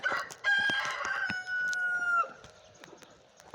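A rooster crows loudly and close by, one long drawn-out call, with hens clucking around it before the call fades into quieter farmyard noise.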